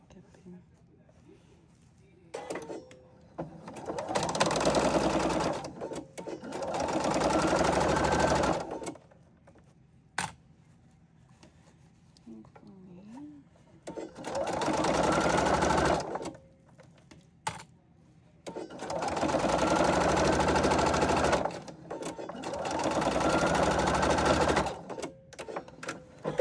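A sewing machine stitching a quarter-inch seam on a potholder, loud steady whirring bursts of several seconds each separated by pauses, with a voice speaking briefly in the gaps.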